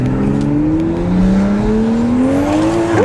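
A BMW with a B58 engine accelerating hard, its engine note rising steadily in pitch under load, loud and close throughout with no voices.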